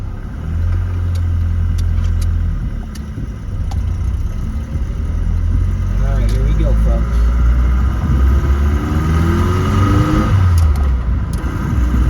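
A car with its transmission low on fluid hums and revs while driving, with low rumbling and road noise throughout and occasional clicks and knocks inside the cabin.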